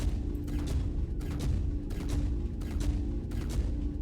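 A size 6 ship weapon in the Star Citizen video game fires outside the Polaris. Repeated booming shots land at a steady rhythm over a low rumbling background.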